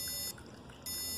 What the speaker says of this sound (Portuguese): um bip a cada 500 milissegundos